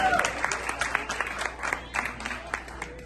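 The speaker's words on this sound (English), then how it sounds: "So, round of applause for that," A small audience at a family gathering gives a short, scattered round of applause, with light claps rising and falling over a murmur of voices in the room.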